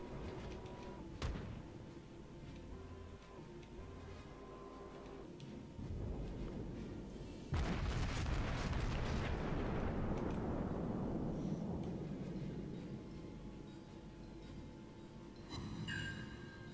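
Battleship main guns fire in a naval warship video game, a heavy booming blast that erupts mid-clip and rolls into a long fading rumble over steady background game noise.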